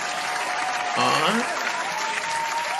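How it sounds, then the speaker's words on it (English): An audience gives a round of applause for Ohio, broad steady clapping throughout while a voice briefly speaks over it. "let me give a round of applause to Ohio."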